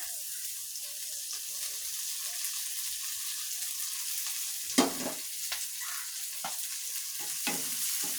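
Fish and leafy greens fry in oil in a pan, a steady soft sizzle with a few louder scraping stirs of a spatula partway through, close and alone.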